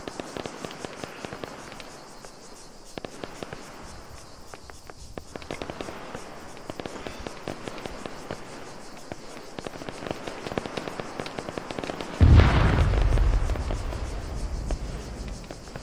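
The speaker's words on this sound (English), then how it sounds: "Get ready to touch off the bombs." Bombs touched off in Arma 3 burst as one sudden loud, deep blast late in the clip, rolling out into a long rumble, after a stretch of quieter ambient crackle with scattered clicks.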